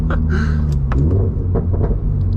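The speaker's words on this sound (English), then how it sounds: "the pops are really fun" A 2024 Subaru BRZ Limited's exhaust rumbles loudly and close, with sharp pops and crackles breaking through the engine drone as it revs during imperfect rev-matched shifts.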